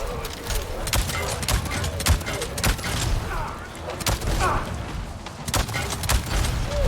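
Shotgun blasts in the video game Avatar: Frontiers of Pandora, with repeated booming shots and thumps over dense, noisy combat sound, scattered irregularly across a few seconds.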